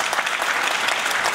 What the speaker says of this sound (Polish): Brawa dla dzieci i młodzieży.